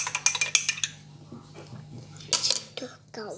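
A spoon stirs a coffee-and-water mixture into chocolate cake batter in a bowl, giving rapid clinks in quick bursts, then a pause and another clattering burst, with soft speech between.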